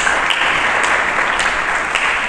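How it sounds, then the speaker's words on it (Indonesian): Dense, loud applause from a church congregation, a continuous wash of many hands clapping together with no pause and no talk over it. "Mari kita berikan tepuk tangan bagi Yesus Kristus."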